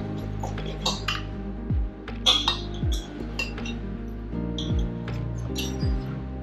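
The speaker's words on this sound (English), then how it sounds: "And I'm gonna cut a piece." A knife and fork work through a sous vide pork steak on a plate, giving light metallic clinks and scrapes at an irregular pace, close and fairly quiet, with no talking.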